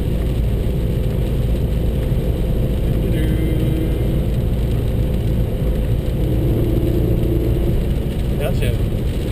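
Renaultsport Megane Cup turbo engine droning at low revs on a rain-soaked Nürburgring Nordschleife, a steady close cabin rumble with road and rain noise throughout and a voice speaking over it.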